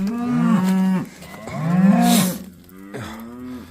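A cow lets out three loud, close moos in quick succession, each long and drawn out, with a brief noisy rustle between them.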